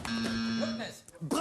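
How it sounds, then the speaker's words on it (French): A game show buzzer on the French TV quiz Burger Quiz sounds a steady, brief electronic drone of about half a second, heard under lively talking from the host and contestants. "il y a du buzzer"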